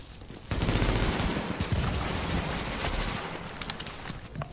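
Gunfire from The Division video game: dense, loud, sustained automatic bursts that overlap into one continuous barrage, with sharper individual shots cracking through near the end.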